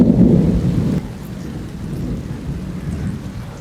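Heavy rain at a tent campsite falls steadily while a loud rumble of thunder rolls in the first second and then fades into the constant downpour; no voices are heard.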